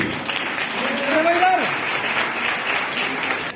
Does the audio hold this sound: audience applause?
yes